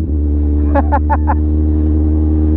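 A Kawasaki Ninja 1000cc motorcycle engine drones steadily and close, with a deep rumbling tone and a few quick, short blips layered on top.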